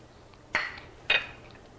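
A metal spoon clinking twice against a cooking pot while goulash is stirred, two sharp, close metallic taps about half a second apart over quiet background hum.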